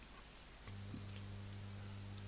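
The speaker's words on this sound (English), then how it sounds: "we'll press the Morse code tapper key and see what happens" A Morse code tapper key is pressed during a physics demonstration with iron powder, starting a steady low electrical hum that switches on abruptly and holds evenly, close and moderately loud, with no talking.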